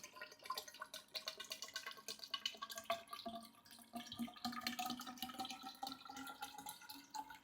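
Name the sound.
pouring water into ozone tower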